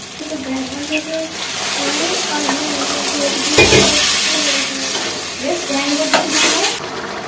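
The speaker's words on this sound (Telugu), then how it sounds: "కొంచెం వాటర్ పోసి మగ్గించుకుందాం" Loud sizzling and bubbling from a hot pan as water is poured into chicken curry, with stirring scrapes and a burst of hiss midway; a voice talks faintly underneath.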